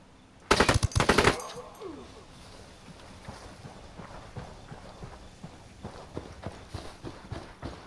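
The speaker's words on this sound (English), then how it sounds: "I'm shooting these fuckers." Gunfire in Ghost Recon Wildlands opens with a loud, dense burst of rapid shots, then scattered quieter shots and footstep-like clatter follow over a low background.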